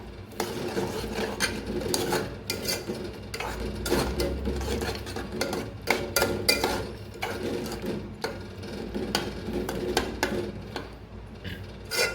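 A spoon stirring milk into ridge gourd curry in a pot, soft repeated scraping and clinking against the metal, quiet and steady with irregular taps.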